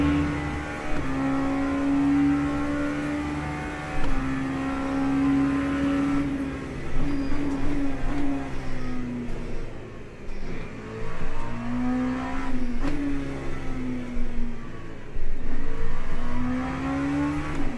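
LMP3 race cars in an ELMS multiclass racing video game at Silverstone, a steady loud engine drone with pitch rising and falling through gear changes, several cars audible together with no talking.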